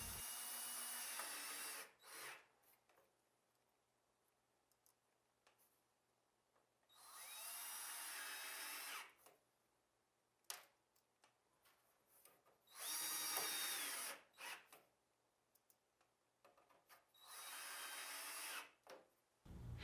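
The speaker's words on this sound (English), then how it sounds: "Screw the rear brackets to the back of the cabinet in the correct location." A power drill drives screws into the rear brackets of a cabinet while mounting Blum Tandem drawer slides, running in four separate sustained whirring bursts with quiet gaps between, close and clear.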